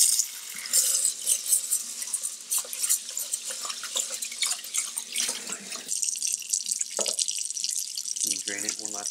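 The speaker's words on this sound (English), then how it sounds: "we're going to go ahead and wash and rinse our rice" Rice rinsed under a running tap in a kitchen sink, water splashing and trickling close by in uneven bursts, then draining and dripping near the end, with a voice speaking briefly.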